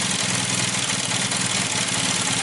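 A Honda CB400 motorcycle engine idles with a steady, rapid, even chugging, close and moderately loud with no other sound over it.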